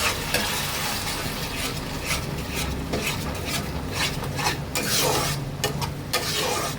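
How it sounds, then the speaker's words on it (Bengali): Spice paste with cashew paste being stirred and sautéed in oil in a pan: a loud, continuous sizzle broken by repeated scraping strokes of a spoon against the pan, close up with no talk. "এটা ভালো করে আমি এখন মশলাটা কষাবো"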